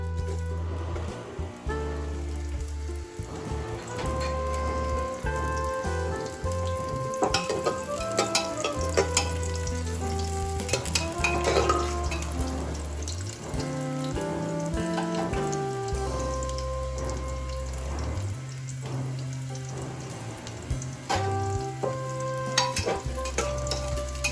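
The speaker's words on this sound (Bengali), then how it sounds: "তেলে গাজরটা একটু ভেজে নেব" Carrot pieces fry lightly in hot oil in a pan, a steady close sizzle with occasional stirring, heard beneath tonal background music throughout, with no talking.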